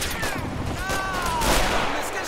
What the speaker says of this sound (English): They're actually firing artillery guns now at like point-blank range at us.